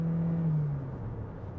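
A Toyota Corolla Cross Hybrid accelerates at full throttle, heard from inside as a steady, moderate engine drone with a sustained whining tone that eases slightly in pitch, with no talking.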